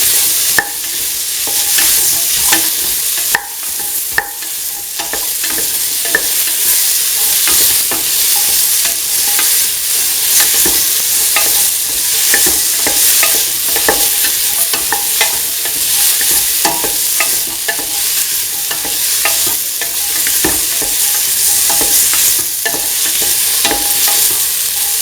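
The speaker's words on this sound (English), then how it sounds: "put in the winter melon pieces, saute and mix the winter melon pieces with the tomatoes." Winter melon pieces and tomatoes sautéing in a pan for a lentil coconut stew, a loud, steady sizzle with constant clicking and scraping as they are stirred and mixed, close by and uninterrupted by voices.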